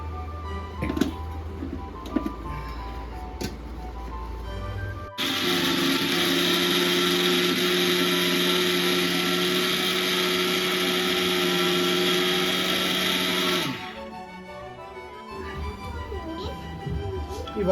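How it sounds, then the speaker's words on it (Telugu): A kitchen mixer grinder blends boiled chana dal into a filling for Ugadi polelu, a loud steady motor whine that runs for about eight seconds. Quieter kitchen handling and a voice come before and after it. "ఇలా పోసేసుకున్నా కదా, ఇప్పుడు దీన్ని మిక్సీ పట్టేసుకుంటా."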